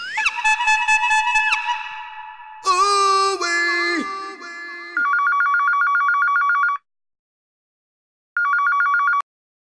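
An office telephone rings with electronic trilling bursts, loud and close, with a varied ring pattern that changes partway through, then a short gap before one more ring burst.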